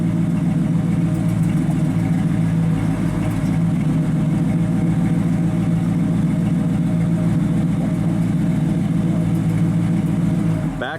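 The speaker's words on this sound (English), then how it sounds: "Sounds good out the exhaust." A 1969 Chevrolet Camaro SS with a 350 engine idles through its exhaust, a loud, steady, close rumble that stays even throughout with no talking.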